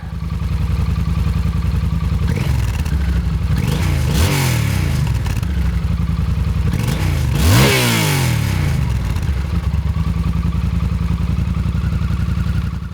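A Yamaha Super Tenere motorcycle rides on a road in Los Angeles, its engine droning loud and close throughout, rising in pitch through two or three revving accelerations with gear changes in between.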